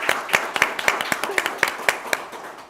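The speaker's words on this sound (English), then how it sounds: "Let's give her a round of applause." A small group gives a round of applause in an indoor business talk setting: a steady patter of fairly sparse, moderately faint claps that carries on throughout.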